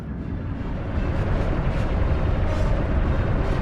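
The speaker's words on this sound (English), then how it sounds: "Proceeding with bombardment, targeting all major population centers." Orbital bombardment in Star Wars: The Old Republic on Corellia, a continuous heavy roar of distant explosions rumbling and swelling in loudness without pause.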